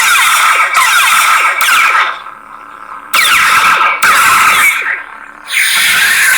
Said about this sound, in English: everything reacts to the auxiliary button being pressed